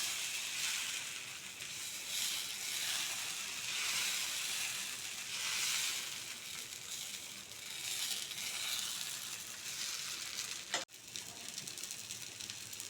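Millet dosa batter spread on a hot pan, giving a long, even, moderately loud sizzling hiss that swells gently throughout, with one sharp tap near the end.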